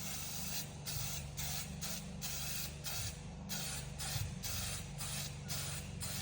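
Repeated short bursts of aerosol spray hiss, about a dozen quick sprays in an uneven rhythm, close and fairly quiet, while rebuilding a Nissan Patrol TD42 engine.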